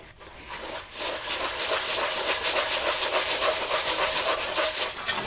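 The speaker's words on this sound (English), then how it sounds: "And now you just scrub it with your scrubby." A scrubby pad works vigorously over a boiled cast iron pot, giving a fast rhythmic scratching and rubbing that is close and continuous, with no talk.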